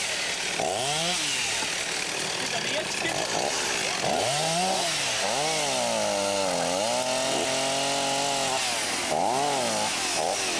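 A chainsaw engine revs up and down repeatedly at the Ladoga Trophy 2002 off-road event, loud and close, with its whining pitch rising and falling in several bursts.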